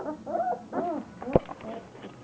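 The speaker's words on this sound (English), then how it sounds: "So here we have our puppies. They're 3 weeks old." Three-week-old puppies whimpering in a short run of soft, high whines and yips, close by and fairly quiet.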